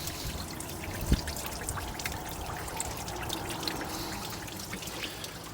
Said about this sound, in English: Overflow the water bottle as well and get every bit of that rusty water out if we can